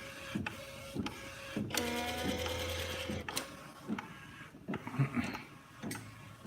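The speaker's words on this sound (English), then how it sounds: "so you can actually see it printing. And it's laying the white layer" A direct-to-garment printer lays down a white ink layer on a t-shirt, its print head carriage whirring back and forth in mechanical passes with clicks and ticks, close and alone.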